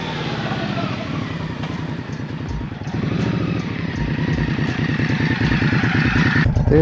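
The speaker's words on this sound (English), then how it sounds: "Even the stock exhaust sounds pretty good." A 2023 Indian Scout Rogue motorcycle idles on its stock exhaust, a steady, fairly mellow low rumble with rhythmic pulsing that swells slightly partway through, close by.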